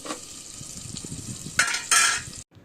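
Potatoes and pigeon meat frying in a pan, a steady sizzle with scraping stirs, then two louder bursts of spattering before it suddenly cuts off.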